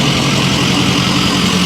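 Diesel engine of a car at a cruise weekend show, idling with a steady low rumble and constant drone, loud and close, with no talking.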